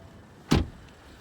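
A single short clunk as the hood latch releases on a 2016 BMW 435i Gran Coupe, close and fairly loud against a quiet background.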